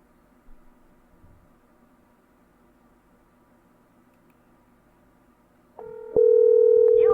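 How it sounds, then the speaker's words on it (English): Phone call being placed: faint background hiss, then a steady electronic ringback or dial tone rises at the end and holds loud and continuous. "All right, I am calling you, Audrina."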